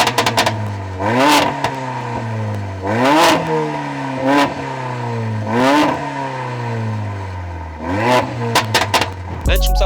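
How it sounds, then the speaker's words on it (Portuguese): A BMW M140i and a Mercedes A45 AMG rev their engines hard and close by, with repeated rising and falling revs in several strong bursts and a sharp crackle near the end. "vamos apenas fazer aqui um soundcheck destas máquinas"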